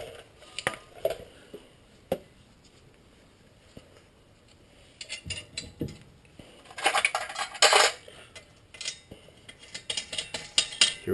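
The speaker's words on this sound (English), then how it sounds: "Here we are installing the lug nuts." Metal lug nuts and conical washers clink and rattle while they are fitted onto the front rotor of a 2008 Infiniti G37. Scattered, irregular taps get busier and louder toward the end, and there is no talking.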